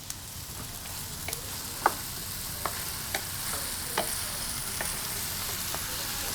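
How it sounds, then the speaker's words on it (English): Hunt's petite diced tomatoes going into a hot pan, a steady sizzle broken by a string of light spoon taps and scrapes as the contents are stirred. "we're gonna add our Hunt's Petite diced tomato"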